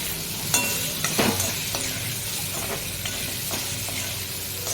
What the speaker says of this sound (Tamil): ஸ்டஃப் பண்ணின கத்திரிக்காயும் அதில் போடணும். போட்டுட்டு ஒரு வதக்கணும்.